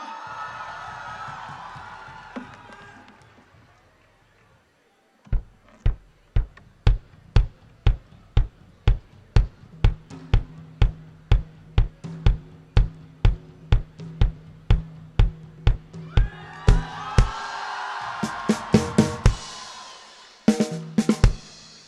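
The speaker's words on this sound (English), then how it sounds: "Huge round of applause, guys" A crowd at a music event in Delhi whoops and cheers, then falls into loud rhythmic clapping in time over a low musical tone, swelling back into cheering and shouts at the end.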